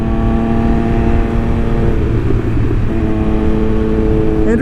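A Triumph Speed Triple 1200 RS motorcycle engine roars loud and close under hard acceleration, its dense harmonics holding steady, then briefly dipping and rising again as the rider shifts and keeps pulling.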